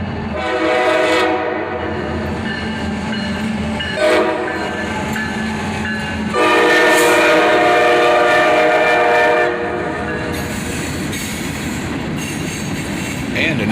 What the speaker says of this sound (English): Another 20 minutes and another train coming